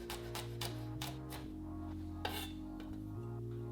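A knife finely minces garlic on a cutting board with a quick run of light tapping chops that then thins out to a few scattered strikes, all quiet and close over a steady low background hum.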